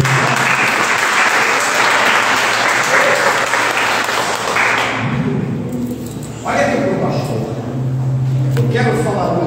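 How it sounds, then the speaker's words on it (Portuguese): A church congregation at a family service breaks into loud, dense applause that fades after about five seconds, followed by a voice speaking over scattered remaining claps. "Você pode aplaudir o nome de Jesus."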